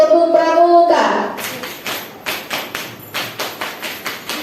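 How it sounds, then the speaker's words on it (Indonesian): A group in a positive-school-culture session claps out the tepuk pramuka scout rhythm in sharp, evenly spaced claps after a voice speaks briefly at the start, each clap distinct and close. "Gerakan tepuk pramuka."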